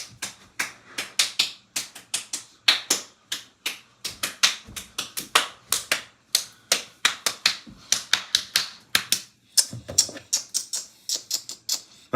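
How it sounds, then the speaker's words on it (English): Crowd hand claps ring out in a quick, steady rhythm at a playoff game, faint but sharp and crisp, with short pauses between bursts. "clap your hands"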